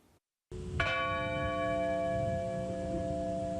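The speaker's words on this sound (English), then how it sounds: "As the bells tolled in Shanksville, Pennsylvania, once for each person who died on Flight 93" At the Flight 93 memorial in Shanksville, Pennsylvania, after a brief silence, a single memorial bell tolls and its tone rings on, slowly decaying over a low background murmur.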